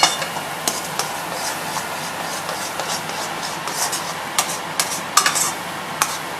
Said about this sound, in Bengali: এটাকে কন্টিনিউয়াসলি নাড়তে হবে যাতে কোনোভাবে এটা লেগে না যায়